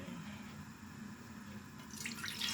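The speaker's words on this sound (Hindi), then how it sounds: "2 लीटर पानी डाल दें।" Water streams into a cooking pot for a chicken and vegetable soup, a steady splashing pour that brightens and grows louder near the end.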